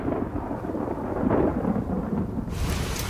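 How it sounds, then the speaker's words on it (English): A thunderstorm rumbles outside a house during a living-room party, deep continuous rolling thunder with steady rain hiss and wind, loud and close. "Then the storms came."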